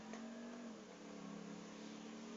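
A car engine revs steadily in GTA V, a vehicle resembling an old Ferrari, with a sustained mid-pitched drone that dips slightly partway through.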